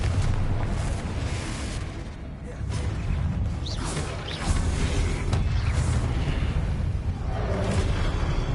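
Confringo fire blast spells cast in Hogwarts Legacy, a series of loud whooshing, booming bursts over a continuous rumbling bed of game sound, with a spoken incantation between blasts.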